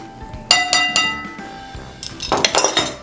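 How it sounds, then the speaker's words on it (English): Eggs and cinnamon being mixed in a bowl for a French toast bake casserole, with a utensil clinking sharply against the bowl in quick irregular bursts close by, with short pauses between them and no talking. "You're just gonna mix it basically till all the eggs get mixed in and the cinnamon is well incorporated in there."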